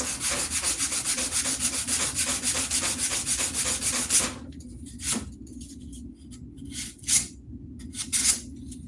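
Close, steady rubbing of sandpaper on a wooden axe handle for about four seconds, then it stops, leaving a few brief scraping touches and quiet handling.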